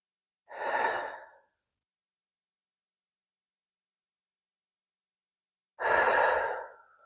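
Two slow, deep breaths during a yoga flow, each a soft airy exhale lasting about a second, separated by a long quiet pause; close and clear with no talking.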